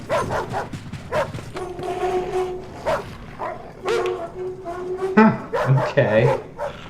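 An invisible dog in the horror game Welcome to Hanwell gives a string of close barks and whining yips, with a person speaking over and between them.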